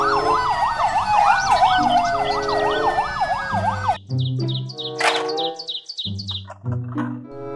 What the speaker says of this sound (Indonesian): Mobil polisi.